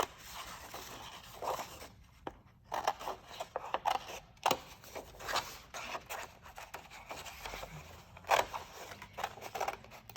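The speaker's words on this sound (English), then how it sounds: "Remember to turn your paper and not your scissors." Scissors snip through paper in short, close, quiet cuts at an uneven pace, with small pauses and rustles as the sheet is turned between strokes.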